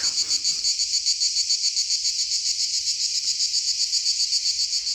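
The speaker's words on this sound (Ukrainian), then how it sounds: "І звуки цикад" Cicadas on the Montenegrin coast near the Queen's Beach buzz in a loud, steady, high-pitched drone with a slight pulsing rhythm, continuous and alone with no other sounds.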